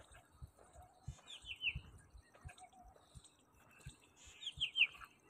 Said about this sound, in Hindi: परिंदों के चहचहाने की आवाज़ आ रही है।